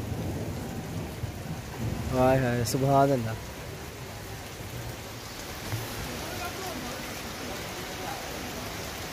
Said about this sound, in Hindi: बादल गरज रहे हैं आज आज 22वीं की रात है माशाल्लाह तो आज मीह बरस गया